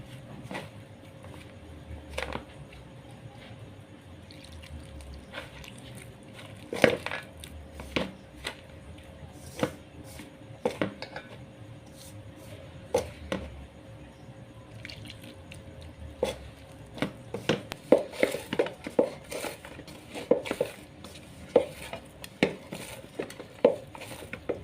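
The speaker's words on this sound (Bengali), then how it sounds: "এরপর ওতে অল্প পরিমাণ জল দিয়ে ভালো করে ময়দাটাকে মেখে নিতে হবে।" Momo dough of flour and a little water is kneaded by hand, giving soft squishes, wet slaps and drips with occasional clinks of a bowl. The sounds come in irregular bursts, close and moderately loud.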